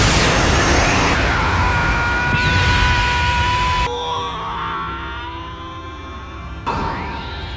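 Cartoon explosion of Cellmax in a Dragon Ball anime battle, a loud roaring blast with crackling debris and rising whooshing tones, dropping to a quieter rumble before a second surge near the end.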